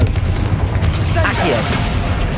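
A Confringo fire spell blasting in Hogwarts Legacy combat against spiders, a loud booming burst with crackling debris, a sharp impact that trails off into rumbling noise.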